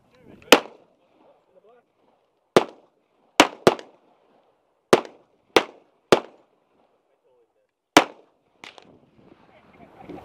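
Gunshots from a 1911 pistol and an M4 rifle at an outdoor canyon shooting range: eight or nine sharp, loud reports spaced irregularly over several seconds, with quiet gaps and faint voices between them.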